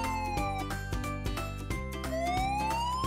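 A police utility vehicle siren wails with sweeping pitch over a dense, steady musical backing, loud and continuous throughout.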